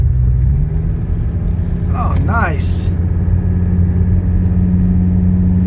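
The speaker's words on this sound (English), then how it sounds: "I'm gonna go ahead and accelerate up this hill here." A 1985 wagon's car engine hums steadily with a low rumble while accelerating uphill, and a person speaks briefly partway through.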